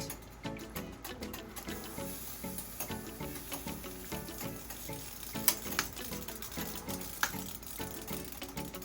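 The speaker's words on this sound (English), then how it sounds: "You guys see me pouring to the side because I do not want to disturb" Liquid is poured into a Dutch oven holding browned oxtail, giving a soft hissing sizzle and bubbling that runs steadily at low volume.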